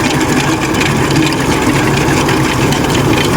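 A tractor-driven crop cutter's engine runs in a wheat field, a steady, loud, close mechanical drone with a low rumble and no breaks or voices.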